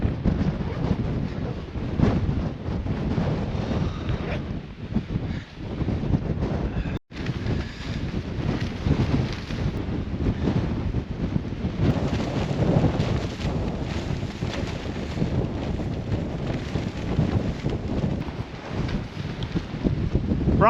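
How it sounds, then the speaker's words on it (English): Strong wind at a mountain summit camp, blowing a steady 20 to 25 with gusts above that, roars loudly and continuously into the microphone, with a brief dropout partway through. "we've got the wind blowing a steady 20 to 25, gusting slightly over that"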